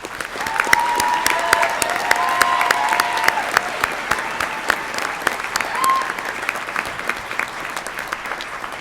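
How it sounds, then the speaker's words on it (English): Commencement audience at a college of veterinary medicine and biomedical sciences applauding honors students, a loud, sustained wash of clapping from a large crowd with occasional cheers and whistles. "Please join me in applauding the accomplishments of this group of outstanding young colleagues."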